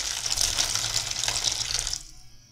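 Water pours steadily into a pot being filled toward a 1.75-liter mark, a continuous splashing rush that runs for about two seconds, then cuts off into quiet.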